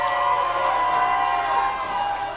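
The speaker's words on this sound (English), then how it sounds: "Crowd's going bananas here." A packed crowd at a combat wrestling event cheers in a steady, dense roar with whistles and shouts, loud and continuous throughout.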